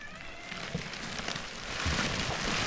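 Continuous rain falling outdoors, a steady dense hiss of drops on surfaces that swells slightly toward the end, with no talking.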